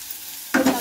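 Chopped vegetables with turmeric hit hot oil in a pan for wheat dosa, bursting into a sudden loud sizzle after a quiet moment and crackling on steadily.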